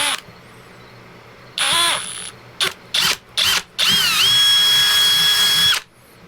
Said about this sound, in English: So now all we need to do is take a drill a hole in our tire.